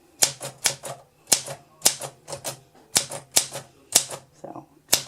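Keys strike sharply on a 1940 Olympus SM4 manual typewriter, close and loud, in an uneven run of crisp mechanical clacks with short pauses between bursts.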